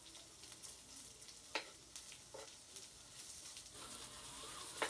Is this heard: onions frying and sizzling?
yes